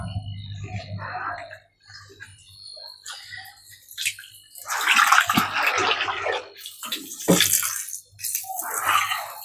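Pressurized water from a hose gushes and splashes while rinsing a fish pond pump at a tilapia mini farm, coming in uneven bursts over a low steady hum, fairly close.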